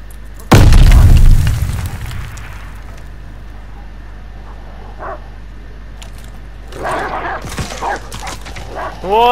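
A loud, booming blast opens the scene in a shooter video game. A dog then barks and snarls in short bursts a few seconds later, over a low, steady background hum.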